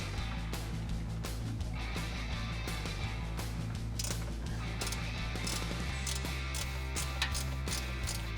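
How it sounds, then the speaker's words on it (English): A ratchet wrench backs out a muffler mount bolt under a Jeep Wrangler JL during an axle-back exhaust install, fast close clicking strokes in irregular bursts over a low steady background hum. "I'm going to take this last bolt out."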